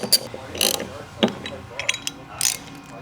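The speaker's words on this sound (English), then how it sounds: "we're going to be running in these 2 bolts here using a 1/2 inch socket" Socket wrench with a 1/2 inch socket ratcheting bolts into a Rotopax mounting plate on a Toyota 4Runner window panel: bursts of quick, close clicking with short pauses between strokes.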